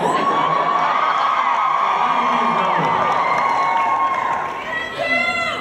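A Comic Con 2013 panel audience cheering and whooping: a large indoor crowd roaring loudly and continuously, with high shrieks and screams riding over the din, tapering slightly near the end before a fresh burst of yells.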